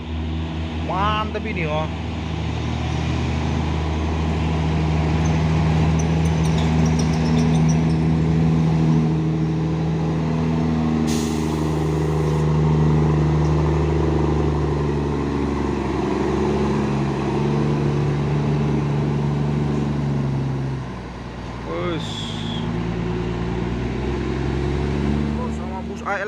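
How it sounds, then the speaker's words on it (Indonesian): A Fuso Super Great truck rolls in with a deep, loud diesel drone and rumble that stays steady throughout, with brief air hiss and squeaks, while people talk over it. "Masuk lagi truk Fuso Super Grid."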